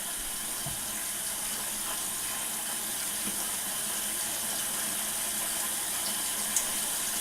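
Water runs steadily from a tap in a continuous hiss as a makeup brush is wetted under it, with a faint clink near the end.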